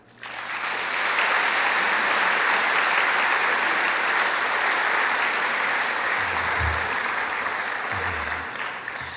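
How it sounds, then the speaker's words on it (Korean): A church congregation at a Sunday service applauds to welcome a pastor. The clapping is loud, dense and sustained for about nine seconds, with a low hum underneath. "뜨겁게 박수로 환영해 주시기를 부탁을 드립니다"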